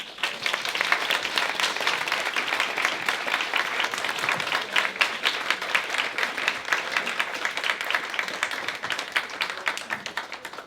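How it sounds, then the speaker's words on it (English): An audience applauds after an inspirational speech about reversing lifelong juvenile arthritis: dense, steady clapping from a sizeable crowd, moderately loud and continuous throughout, with no talk over it. "Another round of applause, Katy"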